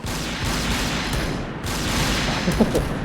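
Sniper fire in a shooting video game, heard within a loud, dense wash of gunfire and explosions that runs continuously, with a short dip before the noise picks up again.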